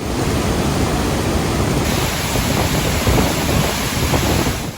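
Låtefossen waterfall in Norway, two streams pouring down from Lake Låtevatnet and joining before passing under a road, a dense, constant, loud roar of falling water with no breaks and no voices.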